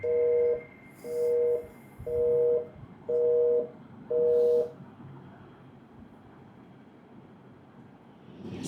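A telephone call's ringing tone sounds as five evenly spaced electronic beeps, clear and steady. Quiet room noise follows the beeps, with a faint trace of a voice.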